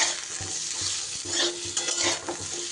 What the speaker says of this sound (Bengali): ভালো করে একটু পটলগুলোকে ভেজে নেব, কাঁচা গন্ধটা যাতে চলে যায়।